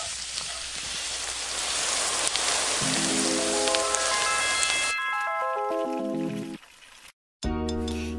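A cartoon magic pot cooks hot khichuri with a loud, steady sizzling hiss, then rising whimsical chime tones sweep upward, a short silence follows, and a bright magical jingle comes after it.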